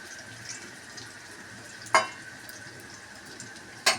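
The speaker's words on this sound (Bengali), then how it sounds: "আমি কটা সোয়াবিনও ভেজে নিচ্ছি" Soybeans fry in a pan with a steady, faint hiss, broken by two sharp louder sizzling bursts near the end; no one speaks.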